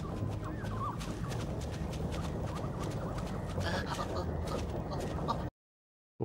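Cartoon birds fleeing while clucking, a continuous faint chatter of chicken-like clucks and flutter lasting several seconds before cutting to silence.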